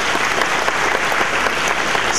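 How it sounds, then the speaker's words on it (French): An audience at a college graduation ceremony applauds in a dense, steady wash of many hands clapping, loud and continuous throughout. "que je vous demande d'applaudir"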